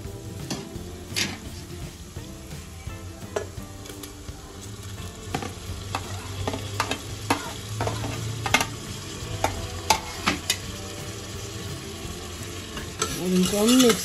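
Tomatoes tossed into golden-browned onions for Punjabi-style rajma are stirred in a pan, giving a steady sizzle and frying crackle with scraping spoon strokes throughout, fairly close and with no talking.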